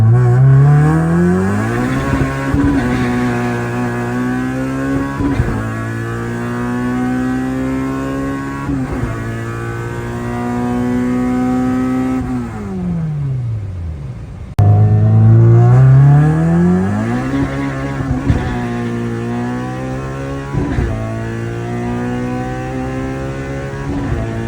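A Mercedes C63 AMG engine being tuned with a sticking throttle body revs repeatedly, rising and falling in long loud sweeps with a brief dip midway, alone with no talk.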